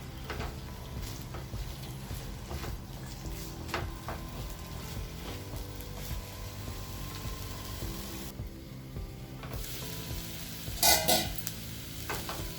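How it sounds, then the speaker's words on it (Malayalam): Onion, green chili and ginger sautéing in a pan for a bitter gourd curry, with a steady soft sizzle, occasional stirring scrapes and a brief sharp clink of utensil near the end. "ഉള്ളി, പച്ചമുളക്, ഇഞ്ചി ഇട്ടൊന്ന് ചെറുതായിട്ട് വഴറ്റിയെടുക്കണം"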